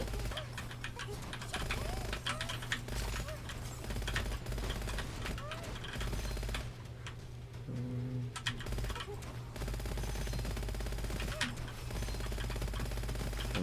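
Rapid gunfire from Gunfire Reborn: steady, dense streams of quick shots fill the scene, with keyboard clicks and tonal game effects layered under faint background sounds.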